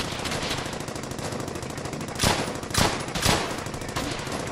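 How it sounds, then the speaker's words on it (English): Continuous rattling automatic gunfire from the World War II shooter Brothers in Arms: Hell's Highway, with three heavier blasts punching through the steady bursts, dense and loud, no talk. "Guns feel pretty good in this game."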